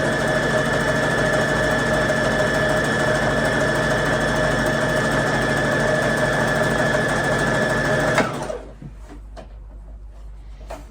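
A Brother LX17 sewing machine running steadily while sewing a satin stitch, a loud continuous motorised hum with a fast even whir that stops abruptly near the end, leaving quiet room noise.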